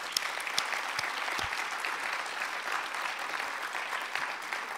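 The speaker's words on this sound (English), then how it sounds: "Can we give them a round of applause?" A conference audience applauds in a dense, steady wash of clapping that holds at an even level throughout, heard from within the hall and fairly distant.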